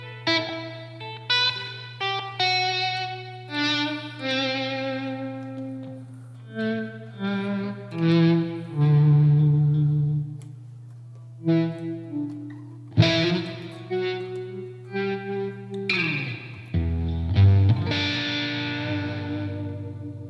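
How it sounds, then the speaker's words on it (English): Electric guitar notes and chords are played through a TC Electronic SkySurfer reverb pedal, each phrase washing into a long, lush reverb tail over a sustained low drone. Phrases are distinct and spaced apart, with no talking. "there seems to be no lack of reverb"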